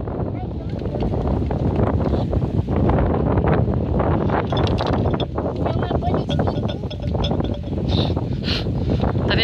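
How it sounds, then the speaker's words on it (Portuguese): Strong wind buffets the microphone in a constant loud roar, with gusts rising and falling and faint voices behind it. "Tá ventando muito"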